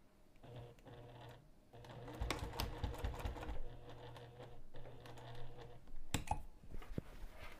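A sewing machine stitches straight across a bag's side tab just below the hardware, running in steady bursts with short pauses and a few sharp clicks near the end.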